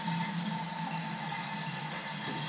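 Water from a tap runs steadily and noisily over hair during a shampoo, a continuous splashing rush with no pauses and no voices.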